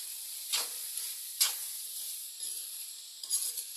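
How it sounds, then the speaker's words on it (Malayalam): Green bean thoran is stirred in a pan, with soft sizzling and a few gentle scraping strokes of a spoon, quiet and close, no talk. "നമുക്ക് ഇളക്കി യോജിപ്പിച്ച് കൊടുക്കാം"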